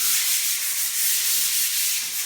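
Sandpaper rubbing steadily across a window sill in a newly built house, keying the surface before undercoat; a continuous, close, fairly loud hiss of abrasion with no pauses and no voices.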